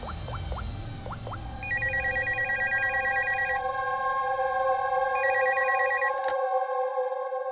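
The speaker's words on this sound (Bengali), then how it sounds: "স্যার, স্টোর ম্যানেজারকে ফোন করছি।" A telephone rings in repeated electronic trilling bursts, two clear ring cycles at moderate volume against a steady tonal background, cut off abruptly near the end.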